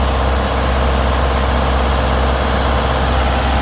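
A loud, steady Isuzu MU-X engine drone with a deep low rumble, held high and unbroken throughout as it is revved, close by with no voices.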